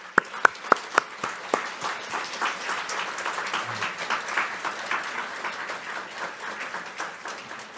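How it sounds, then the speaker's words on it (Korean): A church congregation applauds a choir after a special hymn at a Christmas Day Sunday service. A few sharp, separate claps open the sound, then they swell into sustained, even applause that continues to the end. "두 예양과 성가대 한번 큰 박수 부탁드립니다"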